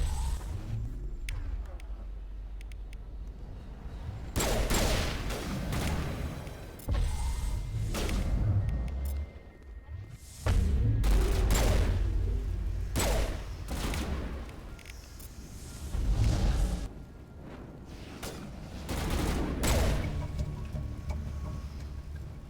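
Bursts of gunfire and thudding impacts ring out in a Mass Effect Legendary Edition firefight, coming in loud clustered volleys separated by brief lulls, with occasional voices.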